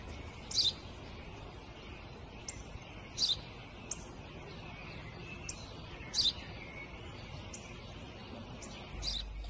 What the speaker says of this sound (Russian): Воробей.